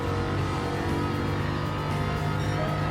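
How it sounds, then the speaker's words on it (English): A 2014 Jaguar F-Type R engine in a racing video game drones steadily at high revs, a loud, continuous rich growl with layered harmonics and no pauses or talking. "I do love the engine noises."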